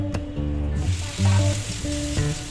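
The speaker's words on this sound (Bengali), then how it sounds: "কালো জিরা পেঁয়াজ ফোড়ন দিয়ে দিলাম এখন একটু একটু লাল লাল করে ভেজে নিয়ে" Black cumin and onion tempering sizzling in hot oil in a pan, a steady close frying hiss with a few clinks and humming tones running underneath.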